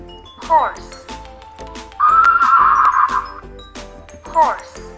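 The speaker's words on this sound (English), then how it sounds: "horse" A horse neighs twice, a shrill whinny near the start and another near the end, with a steady whistled tone between them, in a computer-assisted language lesson.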